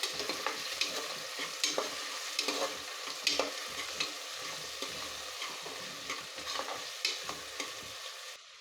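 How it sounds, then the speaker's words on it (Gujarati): Carrots, cauliflower, green onions and potatoes sizzle as they sauté in a pressure cooker for Kathiyawadi green masala khichdi, with a steady frying hiss broken by repeated scraping stirs of a spoon against the pot, alone without talk. "આપણા વેજીટેબલ થોડા સંતળાઈ ગયા છે"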